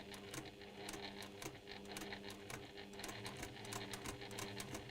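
A sewing machine stitching flowers at slow speed, a steady close mechanical whirr with a fast regular needle clatter running throughout, no voice over it.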